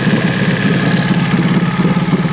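A Mercury 25hp four-stroke EFI outboard engine running, a loud, steady idle with an even low throb and faint mechanical knock, close and continuous with no talk.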